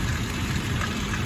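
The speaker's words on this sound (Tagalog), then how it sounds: "masyadong malakas din ang hangin at ulan" Heavy rain and wind during a storm in Abu Dhabi, a dense continuous hiss of downpour, loud and steady throughout a short stretch.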